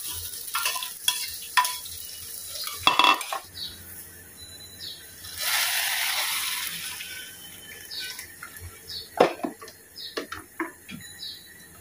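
Bitter gourd frying in a pan, a hissing sizzle that swells midway, punctuated by clattering stirs and scrapes of a utensil, close and fairly loud, no talking.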